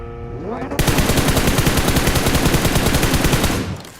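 Rapid, loud automatic gunfire from a video game, a sustained burst of evenly spaced shots lasting several seconds after a brief electronic lead-in.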